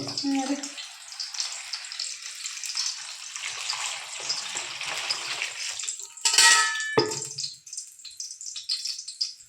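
Tap water runs steadily from a household faucet, a close rushing hiss, followed by a brief clatter of dishes before the flow resumes, with some talk nearby.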